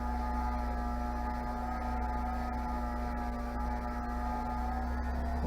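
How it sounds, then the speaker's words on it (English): A motorized buffing wheel polishes a handmade Lebanon cedar ring, giving a steady, loud electric hum that holds an even pitch from start to finish, with no voices. "a little bit of polishing on this, on the wheel"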